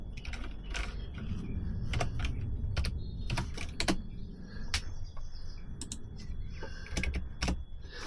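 Rapid, uneven clatter of keys being typed on a computer keyboard, close and fairly loud, with irregular bursts and brief pauses over a low background hum.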